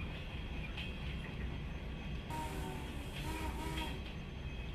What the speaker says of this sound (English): How do you stop the train?